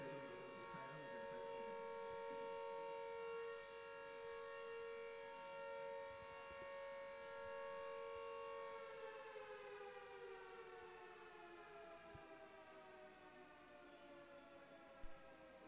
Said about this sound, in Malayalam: ഓക്കെ, സൈറൺ പോയി.